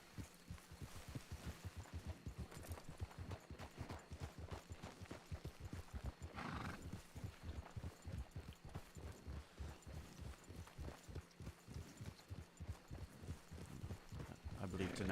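Horse hooves clip-clop in a video game, a steady rhythmic trot that keeps going throughout. It is faint and close under people talking.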